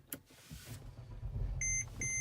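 A car starting: a low motor whir builds while two short high electronic beeps sound near the end, close and clear.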